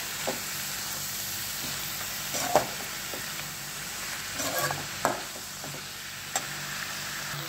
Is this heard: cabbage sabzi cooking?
yes